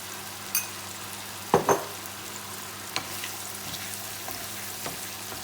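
Fresh tomato sauce being stirred in a pan gives a faint, steady simmering hiss, punctuated by a few soft utensil scrapes and taps.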